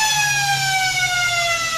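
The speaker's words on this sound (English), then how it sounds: "A beautiful little kick going forward as the siren sounds." A loud, sustained football ground siren ending the first quarter of an Upper Great Southern Football League match, one long steady tone with a slight downward sag, sounding on its own over faint background noise.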